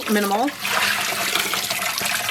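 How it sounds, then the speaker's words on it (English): Tap water gushes steadily into a sink while dyed yarn is washed, a loud continuous splashing rush that follows a brief spoken word. "I'm gonna wash all of the yarn together"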